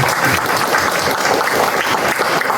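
Loud, close applause from the audience at a citizens' forum on redevelopment in Gwangmyeong, dense and continuous clapping filling the whole stretch without talk.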